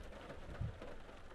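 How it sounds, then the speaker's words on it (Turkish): Rain on a parked car in summer, a soft continuous patter of drops on the body and glass with one duller thump partway through, fairly faint and steady. "Ama yağmur yağıyor şu an gördüğünüz üzere."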